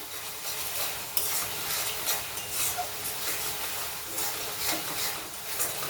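A spatula stirs egg tadka in a pan, with scraping strokes repeating over a steady sizzle from the hot pan and no voices.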